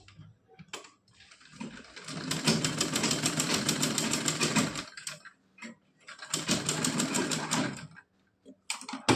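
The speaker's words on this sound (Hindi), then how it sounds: "इस तरह से इस पे सिलाई लगा लेंगे।" A sewing machine runs in two sustained stitching bursts, steady rapid needle clatter with a motor whir, close up, separated by a short pause, while sewing a small Laddu Gopal doll dress.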